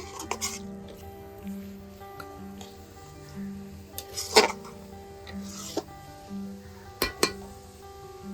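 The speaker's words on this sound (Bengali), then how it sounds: "মশলা কষানো হয়ে গেলে ভেজে রাখা আলুগুলো দিয়ে দেব। দিয়ে আবারও নাড়াচাড়া দেব।" A spoon scrapes and stirs fried potatoes through spice paste in a pan for a jackfruit prawn curry, with soft rasping rubs, a faint sizzle and a few sharp clinks against the metal.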